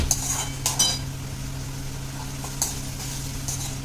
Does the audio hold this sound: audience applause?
no